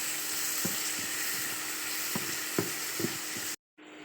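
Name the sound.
onions frying in a pan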